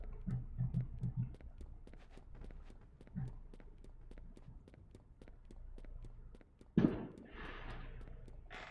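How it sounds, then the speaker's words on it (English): Distant fireworks bursting outside during a Rune Factory: Tides of Destiny gaming session: a quiet dull thump near the start, then one louder, sharper boom with a brief rumbling tail, heard over steady low background noise. "I think that's people doing fireworks."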